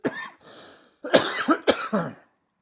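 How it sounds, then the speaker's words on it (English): Several harsh asthma coughs during ragweed season ring out close up, a short one first, then a quick cluster of three near the end. "I'm sorry about all the coughing."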